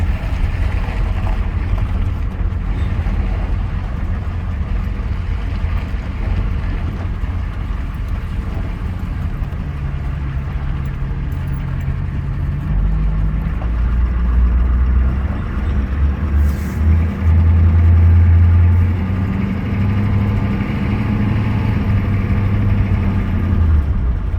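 A 6.9 or 7.3 IDI diesel truck drives along with a continuous low engine drone from inside the cab, its pitch stepping up and dropping as the transmission shifts smoothly, steady and fairly loud throughout.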